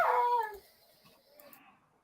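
A dog gives a short, high, tonal whine that tails off quickly, followed by faint, scattered noise, all fairly quiet.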